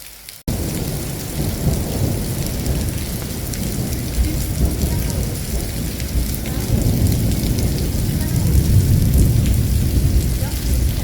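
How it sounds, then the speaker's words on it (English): Thunderstorm in Llanes, Spain, with a long, deep rolling rumble of thunder over steady heavy rain, loud and continuous after an abrupt start, with no clear voices. "that noise you can hear is not a jet plane, it's thunder"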